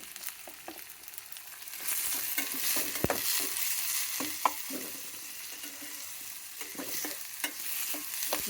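Okra (bendakaya) slices frying in a pan for a dry fry, with a steady broadband sizzle and repeated scraping clicks and knocks of a spatula stirring throughout, close and moderately loud, no voices.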